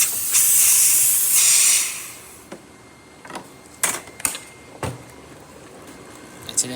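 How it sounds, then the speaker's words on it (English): Steam bursting from the steam wand of a serviced Breville espresso machine fitted with a new valve and O-rings: a loud, bright hiss for about two seconds, then quieter room sound broken by a few short sharp clicks and spurts. "Nice powerful steam coming out through the machine."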